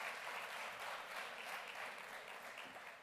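A congress audience claps for the speaker Guillermo, a steady, even wash of applause from many hands, fairly faint and distant, with no talking.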